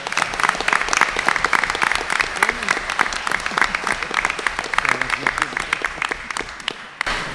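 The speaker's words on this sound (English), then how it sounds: "So big round of applause." A crowd applauds at a school student recognition ceremony, with hearty clapping that carries sharp individual claps and some murmuring, tapering off near the end.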